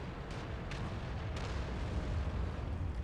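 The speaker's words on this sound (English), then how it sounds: "Artillery, I think, fires at him and misses." Distant artillery in the World of Tanks video game, a rumbling low roar with a few faint cracking bursts, heard on its own without talk.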